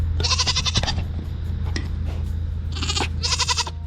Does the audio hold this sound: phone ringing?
no